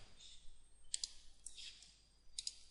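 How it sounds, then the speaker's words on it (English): Computer mouse clicking while installing Left 4 Dead 2 add-ons, a few sharp quick clicks spaced apart over faint background hiss and a soft voice. "As soon as you double clicked it"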